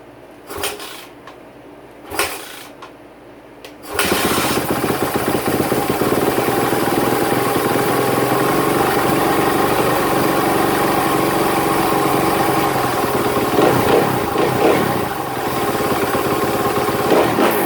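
A 2016 Suzuki RMZ450 dirt bike in a shop starts with the choke on: a few quiet knocks, then the engine fires and settles into a loud, steady, rattly idle that runs to the end.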